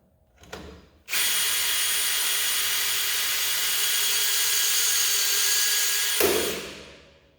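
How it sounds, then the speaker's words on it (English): A loud cordless drill whirs steadily for about five seconds, charging the mechanism of a GE AM circuit breaker, preceded by a brief mechanical clunk and winding down at the end. "I'm going to charge it again with a cordless drill."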